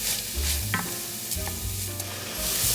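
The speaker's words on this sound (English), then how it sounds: "I've allowed my onions and green peppers to saute some, covered." Onions and green peppers sauteing in a covered pan for homemade spaghetti, a steady sizzle running throughout with a few clinks and low rumbles from handling the cookware.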